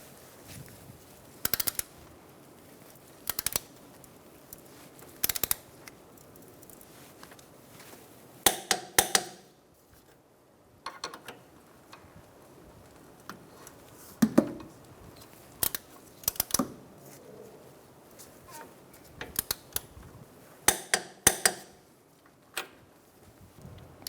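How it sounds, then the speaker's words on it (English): Torque wrench tightening the wheel hub bolts on a 2014-2019 Kia Soul during a front wheel bearing replacement, sharp scattered clicks and clacks in short clusters against a quiet garage background. "And now we're going to torque down all our bolts."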